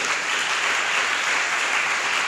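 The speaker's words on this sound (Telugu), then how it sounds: "గట్టిగా చప్పట్లు కొడదాం." A congregation at a Telugu church sermon claps loudly together, dense continuous applause filling the room without pause.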